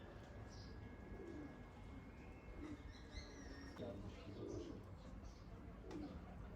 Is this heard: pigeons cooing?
yes